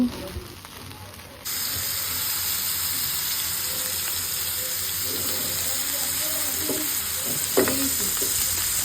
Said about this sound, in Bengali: এদিকে আমার ফ্রাইড রাইস রান্না করা শেষ, চিলি বিফ রান্না করতেছি।